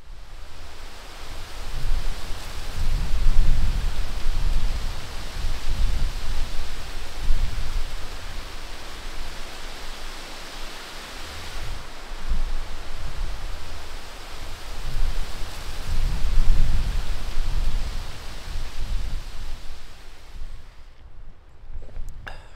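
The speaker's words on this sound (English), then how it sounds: "the rain started, and it rained all night. On and off, but hard at times and pitter-patter at other times." Heavy rain falls at night on a camp in Killarney with gusting wind, a dense, steady roar that swells and eases in strength, loud and close, without any talk.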